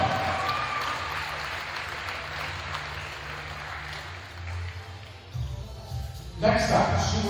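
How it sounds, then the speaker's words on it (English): A gym crowd claps for a senior player on senior night at a women's varsity high school basketball game, with steady applause that fades toward the end as talk and an announcer's voice come in. "How about a round of applause"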